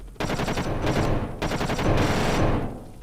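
Rapid bursts of automatic gunfire from a plane in a flight video game, loud and close, in three sustained rattling strings separated by short pauses.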